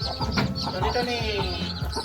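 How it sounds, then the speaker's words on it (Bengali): Agitated hens cluck and squawk close by in a continuous, irritated chatter, with a person's voice mixed in among the calls. "মুরগি দেখছো রেগে যাচ্ছে কেমন"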